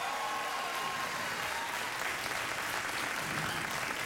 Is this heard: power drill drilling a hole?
no